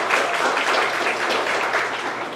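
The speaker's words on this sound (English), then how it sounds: "you can go ahead and clap" A crowd applauds at a high school senior scholarship night, with dense, continuous clapping that fills the room loudly and evenly from start to finish.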